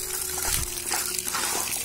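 Goat meat rinsed under running water from a tap, a steady close trickle and splash filling the clip with a brief heavier gush near the middle; no talk.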